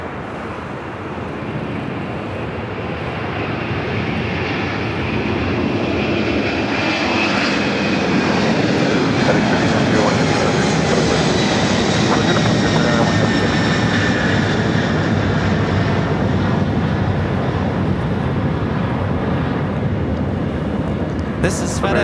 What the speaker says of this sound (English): This is FedEx 3901 taking off to Newark on an MD-11 freighter